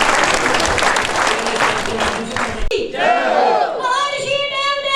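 A crowd at an annual village festival procession in Dadupur Kalan claps loudly for two professors. The dense applause stops abruptly, and a raised voice calls out over the quieter crowd.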